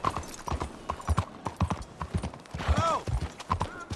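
Horse hooves clip-clop in a steady trotting rhythm in Red Dead Redemption 2, close and clear, with a brief whinny partway through and no talking over it.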